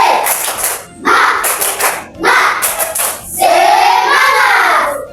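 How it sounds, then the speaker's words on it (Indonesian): Schoolchildren in a class do a rhythmic spirit clap, tepuk semangat: three loud bursts of patterned group clapping with short breaks between them, followed by a shouted group chant in unison. "coba tepuk semangat"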